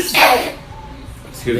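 A single sharp human sneeze bursts out loudly near the start, followed by a quiet pause and then the onset of speech.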